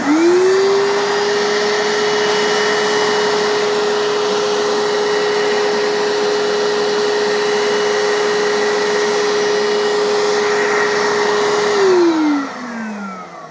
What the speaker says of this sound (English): I leave the machine on and just lift the wand up, and you'll find that there's a bunch more solution that goes to the machine